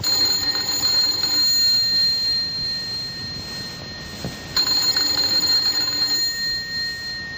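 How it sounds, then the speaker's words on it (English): A doorbell's bell-like ringing tone sounds steadily, cutting off briefly midway and then resuming, with no voices present. "Let's begin this tale with the ringing of a doorbell"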